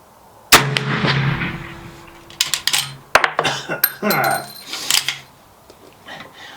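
A vintage Bullard rifle fires an old black powder round with one sharp, loud shot close by. Metallic clanks and rattles follow over the next few seconds.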